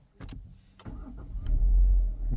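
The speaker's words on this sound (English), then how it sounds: "Okay, I'm going to restart the car now." A Subaru car engine cranks and catches, starting after brief clicks, then settles into a loud, steady low rumble that holds close by, with no voices over it.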